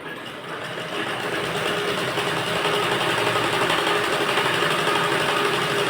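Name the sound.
sewing machine stitching a blouse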